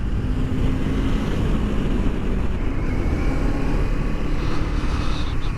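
Kawasaki Ninja 500 motorcycle riding on winding roads, a steady low engine drone with rushing wind noise throughout, unbroken and fairly loud.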